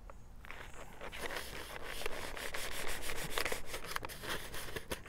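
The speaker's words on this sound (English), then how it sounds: "So let me just cut some more slices." A knife slicing through smoked Texas brisket cooked on a Weber Summit charcoal grill, giving a close, steady rasping and rubbing with repeated short scrapes as the blade saws back and forth, no talking.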